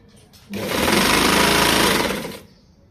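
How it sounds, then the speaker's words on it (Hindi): A sewing machine stitches lace trim along the edge of a dupatta, a loud, fast, even whirring run of about two seconds that starts and stops abruptly, with quiet room sound before and after. "चले अब पूरी ये सिलाई कर लेते हैं एक दफ़ा"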